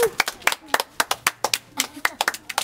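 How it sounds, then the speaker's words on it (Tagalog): Several people clap in quick, uneven bursts of sharp hand claps, close and fairly loud, with voices and laughter mixed in at a lively gathering. "Yung palakpak."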